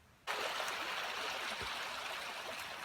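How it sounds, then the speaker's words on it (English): A brook babbles and burbles steadily in a natural outdoor setting, starting abruptly and continuing as a close, even wash of trickling water with no talk. "The beautiful burbling brook, that's the background."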